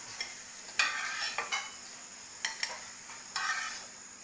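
Shami kebabs fry in a pan with a soft steady sizzle, broken by several sharp stirring and scraping bursts from a spatula against the pan; no one speaks.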